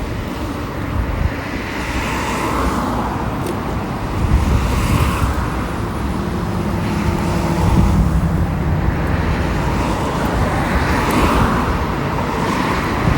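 Steady roar of traffic rushing past close by, a continuous broadband wash with occasional swells as vehicles pass.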